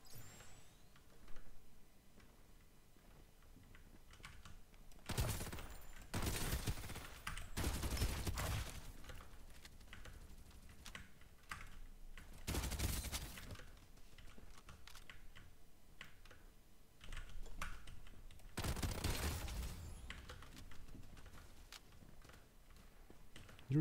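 Gunfire from the video game Farlight 84 comes in several loud bursts of shots, separated by quieter stretches of keyboard typing and game ambience.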